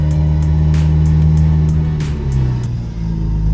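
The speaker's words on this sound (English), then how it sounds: "This is what it sounds like to have a running car, Dustin." The 1JZ engine of a Lexus SC300 runs close and loud, a deep steady rumble with a brief rise and fall in pitch near the end.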